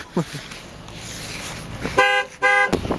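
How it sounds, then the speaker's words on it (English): A car alarm blares in repeated honking bursts, loud and close, with a brief voice near the start. "Your car alarm started going off."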